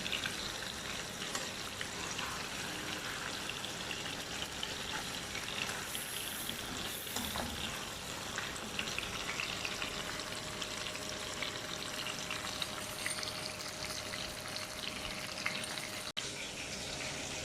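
Chicken chargha fries in a pan with a steady, soft sizzle and crackle throughout, with faint clinks of utensils over the hiss.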